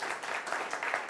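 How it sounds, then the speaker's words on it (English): Applause from a conference audience welcoming a speaker to a talk on documentation, a steady dense patter of many hands clapping throughout, moderately loud and without speech. "Applause for Andy Oram."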